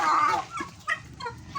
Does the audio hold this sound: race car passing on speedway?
no